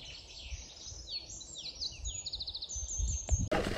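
Birdsong among old trees along mountain bike trails at Dunkeld, several birds chirping and trilling in quick repeated phrases, fairly near over a quiet background, with a brief knock near the end.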